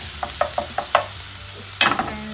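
Onions, green chilies and curry leaves fry in a pan for a lamb liver curry, stirred with a utensil in a quick run of light scrapes and taps, then a louder burst of clatter over a steady soft sizzle.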